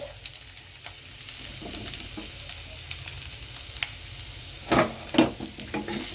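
Ginger and onion fry in hot oil with a steady close sizzle, and a few louder spatters and stirring knocks come near the end.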